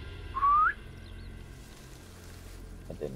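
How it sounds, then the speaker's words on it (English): A character whistles in Sniper Elite 5, one short rising whistle that stands out loud and alone before fading into low game ambience. "Shall we do the whistle?"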